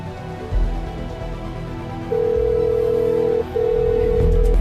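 A telephone sounds a steady electronic tone, then dialing and ringing tones. They are loud and close, with a brief break midway and no talking.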